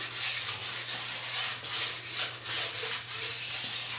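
A stone hones the sidewall edge of a ski in quick, even back-and-forth rubbing strokes, close and moderately quiet over a faint steady hum.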